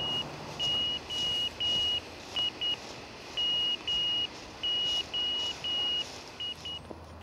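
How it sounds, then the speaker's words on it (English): ARDF fox hunting transmitter keying Morse code as a clean, steady high-pitched tone, broken into short and long beeps in an irregular rhythm over faint background hiss, with no talk. "Each transmitter sends MO in Morse code, and then at the end of MO it sends one beep, two beeps, three beeps, four beeps, or five beeps."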